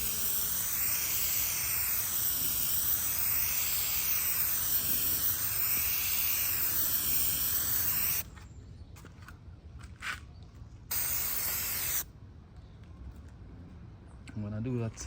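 An aerosol coating is sprayed from a can held 6 to 8 inches from a Ford headlamp in horizontal passes. It gives a steady, close hiss for about eight seconds, then quiet gaps broken by one shorter burst.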